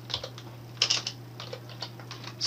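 Fingers tap a short burst of keystrokes on a computer keyboard while entering a Windows Run command, a quick uneven run of close, crisp clicks heard alone.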